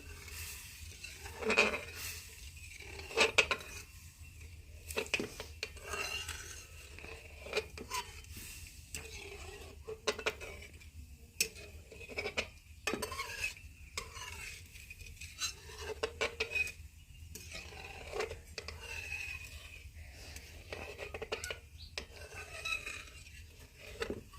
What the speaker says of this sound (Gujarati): જો આપણે એને સતત આમનું હલાવતા રહેવાનું છે